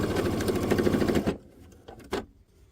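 A sewing machine stitches a quilt block pillow in a fast, close, rhythmic whir that stops abruptly partway through, followed by a couple of soft clicks.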